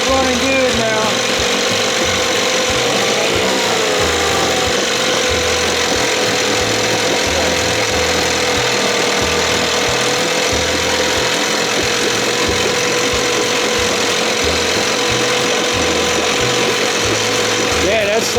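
An Evinrude 6 hp outboard motor runs steadily after starting. It gives a loud, continuous, rapid-firing engine drone with an even rhythmic chug that holds for the whole stretch.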